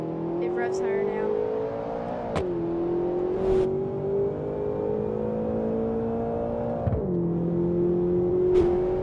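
A tuned pickup truck engine with a new exhaust, a bigger turbo and a lift kit revs in BeamNG.drive, a steady harmonic drone that dips briefly at gear shifts, with talk over it.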